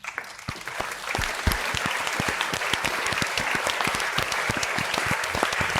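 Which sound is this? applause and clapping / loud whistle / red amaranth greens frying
applause and clapping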